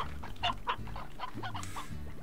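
Repeated clucks from a game hen in Slime Rancher, several quick, bright calls in an uneven rhythm over low ambient game noise, no one speaking.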